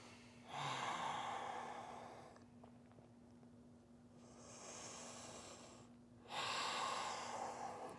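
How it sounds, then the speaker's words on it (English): Deep breathing during a yoga forward fold in a pyramid pose: slow, close, airy inhales and exhales in a steady rhythm, each long breath clearly audible over a faint steady hum, with no talking. "Take those big breaths."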